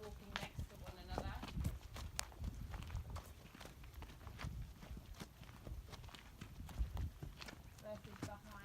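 A giant draft horse walks beside its handler, its heavy hooves clip-clopping in an irregular rhythm with sharp strikes standing out, while a person talks over the steps.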